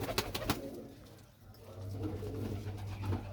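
Low pigeon cooing hums steadily beneath a few sharp clicks and taps, with quiet background voices.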